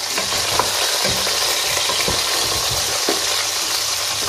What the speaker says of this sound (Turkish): Soğanlarımızı, havuçlarımızı, etlerimizi ne yaptık? Yanacak dereceye gelene kadar kavurduk,